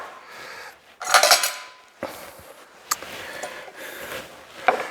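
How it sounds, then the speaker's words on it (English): Knife slicing a chop off a grilled rack of pork with apricot glaze on a cutting board, a few close scraping and clinking strokes of the blade, quiet and alone. "So I'm gonna cut off a chop here."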